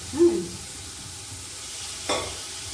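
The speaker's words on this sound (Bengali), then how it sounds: "হয়ে গেছে আমার ঝিঙ্গা ভাজা, নামিয়ে রাখলাম।" Ridge gourd frying in oil in a pan, a soft continuous sizzle with a brief stirring scrape at the start and another short clatter of the utensil later.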